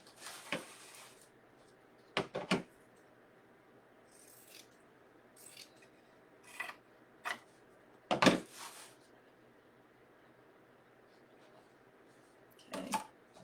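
Scissors cut a piece of drop cloth at an angle for a scarecrow hat in a craft project, a few crisp separate snips spaced apart against a quiet room.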